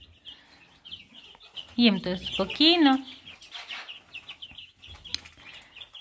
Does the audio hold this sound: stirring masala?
no